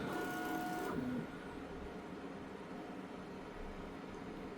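A Bambu Lab A1 3D printer levels its bed before printing, giving faint tonal stepper-motor whines and movement noises for about a second, then a quiet steady mechanical hum.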